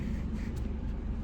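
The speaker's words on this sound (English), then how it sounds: "That's the sound of my engine roaring." A car engine drones at an even, low rumble from inside the vehicle, a continuous muffled roar with no talk.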